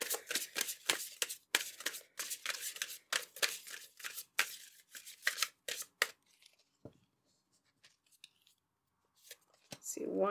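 Tarot cards are shuffled close up in rapid, crisp riffling bursts for about six seconds, then a near-silent pause with a few soft card taps, and a voice briefly speaks.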